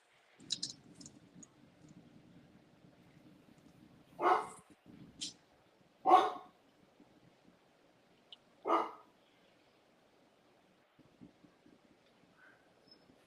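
A dog barks in scattered single yelps at a distance, with quiet clicking and low background noise in between.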